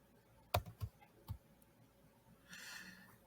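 A few sharp, close mouse clicks on a computer while working in gradebook software, isolated taps in a quiet room followed by a soft rustle.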